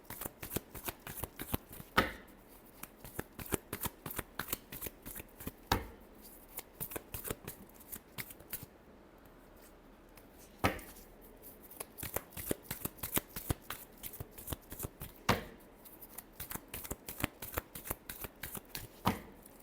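Tarot cards are shuffled over and over at close range, with quick rhythmic riffles and taps and a few sharper bursts where the deck is squared. There is no talking.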